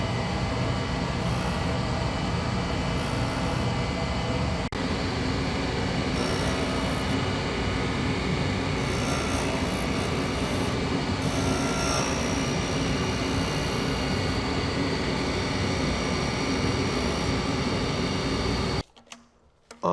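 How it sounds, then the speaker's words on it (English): A grinding wheel with a sharp-radius edge skims the back surface of a steel grooving tool, throwing sparks; a loud, continuous hissing grind holds steady for nearly twenty seconds, then cuts off abruptly near the end. "Now I'm just going to touch off on this back surface and give it a minimum skim."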